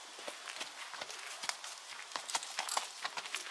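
Hooves of a chestnut horse clip-clop at a steady walking pace, sharp regular strikes on hard ground, fairly close and alone with no talking.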